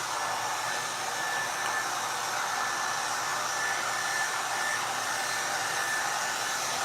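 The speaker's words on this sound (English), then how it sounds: "I hold my blow dryer like vertically" A hair dryer blows steadily and loudly throughout, a constant airy roar with a faint high whine running underneath.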